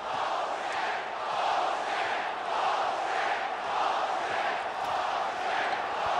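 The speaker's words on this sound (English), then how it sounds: "Then the crowd's yelling out bullshit." Arena crowd at a 1986 Celtics versus Bulls basketball game roars and yells in a sustained, broad wall of voices that holds at an even level throughout, with no single speaker standing out.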